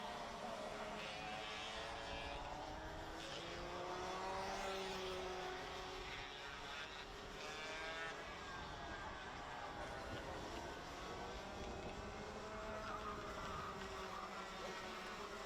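Junior Max racing karts lap a 1.388 km circuit in close slipstream battles, their high engine whine rising and falling continuously at moderate distance, with a commentator's voice running over the top throughout.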